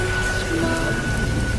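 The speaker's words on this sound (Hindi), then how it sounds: "बारिश अब भी जोरों पर थी और हवाएं मंदिर की दीवारों से टकराकर सनसनाती हुई गुजर रही थी" Heavy rain pours on a night storm around a temple, driven by wind, with a low rumble of thunder underneath. It is loud and continuous, with faint sustained musical tones above it.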